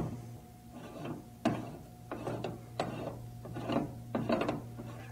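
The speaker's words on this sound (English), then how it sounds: "Using the 61 SA tool and a torque wrench, tighten the 61 SALP to between 90 to 110 foot-pounds of torque." A torque wrench ratchets while tightening a spill bucket inlet fitting, giving a series of close clicking bursts over a steady low hum.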